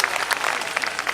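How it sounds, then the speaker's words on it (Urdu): An audience at an Urdu poetry recital (mushaira) claps in a dense, continuous burst of applause that is loud and close, with many hands overlapping evenly. "تالیوں کی گونج میں استقبال کیجیے"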